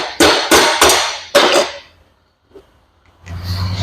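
A hammer strikes a straight pick wedged under the wiper of a New Holland tilt cylinder, four sharp metallic blows in quick succession, close and loud, followed by quiet and some faint handling noise.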